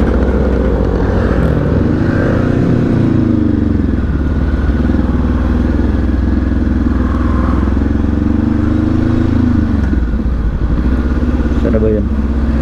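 A Honda motorcycle engine runs steadily at close range throughout a ride, with a constant low drone and occasional clatter. Speech is present intermittently over the engine noise.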